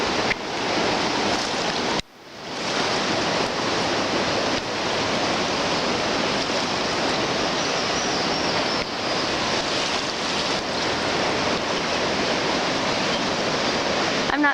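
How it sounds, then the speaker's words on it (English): A flooded, raging river rushes past, heard from a safe spot on its bank, a loud, steady broadband roar that briefly dips about two seconds in, then continues unbroken. "I'm hoping you can hear the rushing water."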